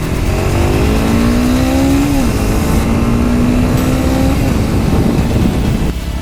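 A beginner sport motorcycle, compared with a Kawasaki and a CBR 250, accelerates loudly and close by, its engine note rising steadily through the gears with a brief dip at a shift, under heavy wind rush.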